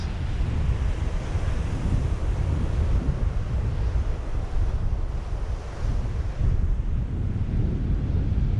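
Surf breaks steadily on a small beach, a continuous loud wash of waves with heavy wind buffeting the microphone throughout and no voices.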